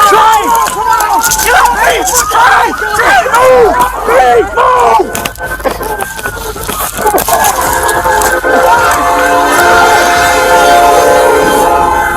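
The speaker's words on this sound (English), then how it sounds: "the unmistakable sound of an approaching train rumbled in the distance" A train approaching near railway tracks, a heavy rumble with clattering wheels and a long, loud horn blast sounding over it, close and dominant throughout.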